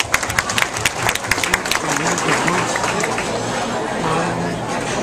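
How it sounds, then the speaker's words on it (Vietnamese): Community members at a Lunar New Year gathering clap, with sharp individual claps at first settling into a steady moderate round of applause mixed with background crowd murmur. "Xin một tràng pháo tay."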